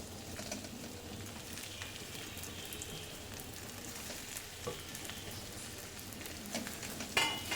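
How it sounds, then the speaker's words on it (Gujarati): Okra is tipped into a pan of frying potatoes, and a continuous soft sizzle carries on with occasional clinks and a louder rattle near the end, with no one talking. "એમાં હવે ભીંડા ઉમેરી લઈશું।"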